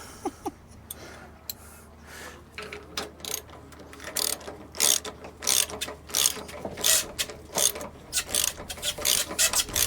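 Polystyrene squeaking and rubbing during DIY boat rigging work on mast tangs, heard as a series of sharp, irregular squeaks and scrapes that get louder and denser toward the end, close by and with no talking.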